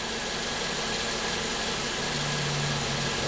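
A 2014 VW Jetta with a GDI turbo engine and an intermittent misfire sits idling, giving a steady, close-up mechanical hum with a low, even drone and no voices.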